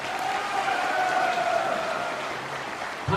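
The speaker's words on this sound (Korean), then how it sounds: "박수를 다시 한번 부탁을 드리겠습니다" Applause rises from a large audience at a veterans' rally and resolution meeting, a dense sustained wash of clapping that holds steady, then eases off a little near the end.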